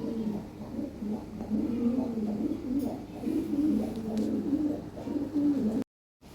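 Lahori pigeons coo steadily and close by, overlapping low rolling calls repeating throughout, then a brief silence at the end.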